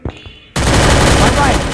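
Dense, loud gunfire of an M1887 shotgun in the Free Fire video game bursts in suddenly after a short quiet moment and continues as a harsh, rapid volley to the end.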